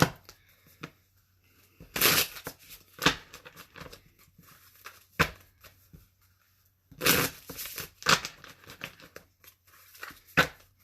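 Green Witch tarot cards are handled and shuffled close by, giving bursts of papery riffling and slapping with quiet pauses between them.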